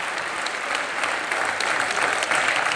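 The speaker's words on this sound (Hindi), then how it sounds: "ये हमारी ऑडियंस बड़ी कमाल की है, ये मार पिटाई पे जरूर ताली मारती है।" A studio audience at a Hindi talk show breaks into sustained applause, a dense, even patter of many hands clapping with no break and no speech over it.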